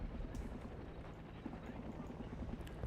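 A military helicopter landing troops in a Cold War 1975 video game mod thuds with a steady rotor chop, fairly faint and continuous under a low rumble.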